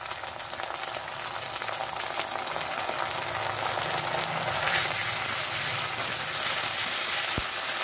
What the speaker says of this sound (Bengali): আদাটা কিছু ভাজা হয়ে আসলে